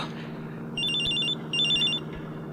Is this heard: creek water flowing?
no